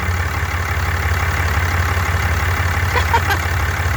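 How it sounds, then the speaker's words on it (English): A 2014 Ram 3500 pickup with a Cummins diesel engine and 500k miles runs at a steady idle close by, a continuous low, even rumble with no revving throughout. "This engine is sturdy. Like, it's running awesome."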